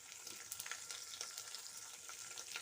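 Onions fry in hot oil with a faint, continuous hiss and scattered light crackles, close to the pan and steady throughout, with no voices.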